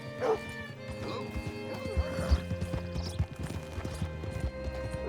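Horse hooves clip-clopping in the Western video game Red Dead Redemption 2, an irregular series of close, hollow hoof strikes over a low tonal background, with a brief whinny near the start.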